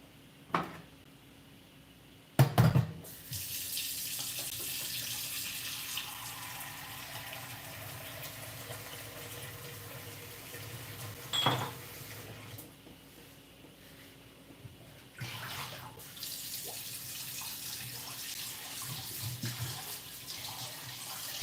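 Rice rinsed under a running kitchen tap in a sink, with steady streaming water, a few clunks and splashes, and the flow changing partway through.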